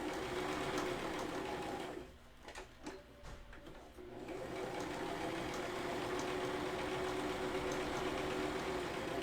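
A sewing machine stitches a plastic grocery bag holder with a loud, continuous mechanical whir, briefly easing off around the middle before running steadily again, with no talk.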